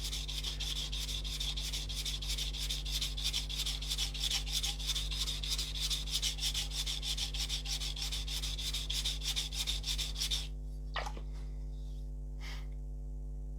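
A knife blade ground on a coarse sharpening stone, a continuous close rasping scrape of rapid strokes over a steady mains hum, stopping abruptly near the end, followed by a couple of faint taps.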